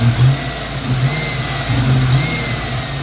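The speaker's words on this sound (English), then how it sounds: "an immediate stumble, and then it tries to stall out" A 1994 convertible's engine runs unevenly after high idling, its low rumble surging and dipping as it stumbles and tries to stall, close by with no talking.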